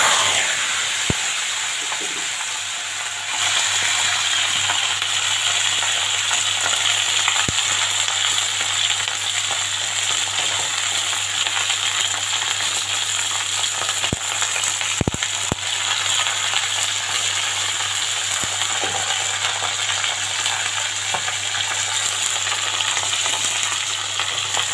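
Sliced okra fries in oil in a wok with a loud, steady sizzle and hiss that runs without a break, broken only by a few sharp clicks of a utensil, with no talking.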